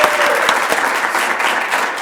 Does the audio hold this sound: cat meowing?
no